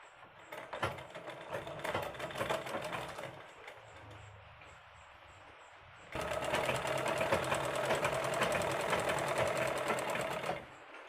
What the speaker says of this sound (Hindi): इसे इस तरीके से रख के सिंपल सिलाई लगा लेंगे, प्लेन सिलाई सीधी सीधी